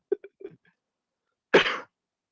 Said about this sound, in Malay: Sorry, terbatuk dalam speaker.